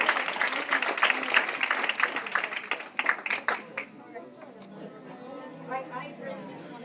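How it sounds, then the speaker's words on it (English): Audience applause for the candidates at a Camas mayoral debate in October 2019, dense clapping that thins and fades after a few seconds into scattered claps and murmuring chatter. "Let's give a round of applause for them."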